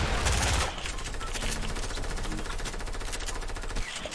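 Rapid automatic gunfire sprays in a squad battle-royale shooter, a steady close rattle of shots lasting several seconds, loud and continuous with no talk over it.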